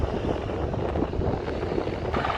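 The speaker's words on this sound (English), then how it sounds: "that helicopter is hovering" A helicopter hovering near an airport during plane spotting, a steady rumbling engine drone with wind buffeting the microphone, fairly distant and continuous with no talk.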